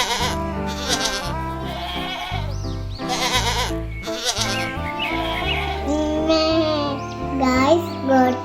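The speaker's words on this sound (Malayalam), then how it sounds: "ഗോട്ടിന്റെ സൗണ്ട് കേട്ടോ" A cartoon goat in a children's farm animal-sounds show bleats several times over a bright musical backing that plays throughout.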